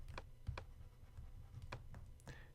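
Several scattered keystrokes on a computer keyboard, soft and close, in an irregular pattern over a low room hum, with no talk.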